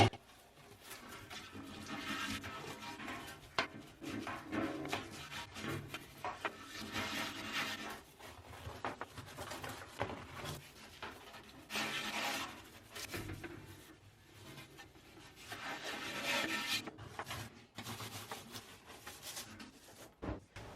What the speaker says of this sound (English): And then I'm gonna take this same brush and just start scrubbing.